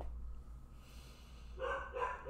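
Puppies give a few faint, quick barks and yips in the background late in the clip, after a quiet stretch.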